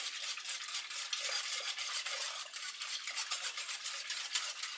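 A stainless steel whisk beats steadily through pickle brine, a continuous rapid swishing and splashing with quick rhythmic pulses, close and alone.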